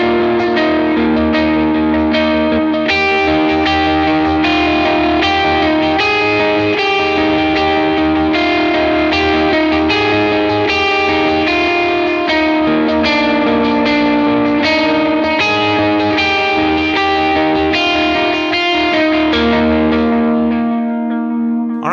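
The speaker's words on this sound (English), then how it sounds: "Middle position, that sort of ambient dotted eighth delay with a little bit of reverb." Electric guitar in the middle pickup position played through an ambient dotted-eighth delay with a little reverb, ringing notes repeating and blurring together in a steady, loud wash that fades at the end.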